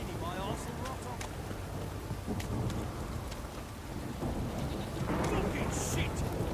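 Rain and thunder in the Witcher 3 video game: a steady wash of rain pours on surfaces, with low thunder rumbling and building louder toward the end, and a voice heard briefly under it.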